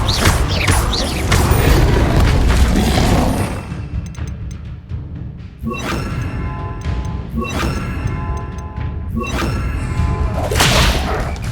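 Several Confringo spell blasts in Hogwarts Legacy go off during combat, each a sharp whooshing crack with a thud, coming in a rough series of four or five hits over game sound and music.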